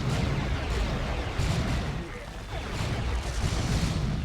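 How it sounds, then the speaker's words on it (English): Orbital bombardment striking an Ork force in Warhammer 40,000: Dawn of War 2, a dense rumble of booming impacts and crackling blasts, with a commentator talking throughout. "orbital bombardment action"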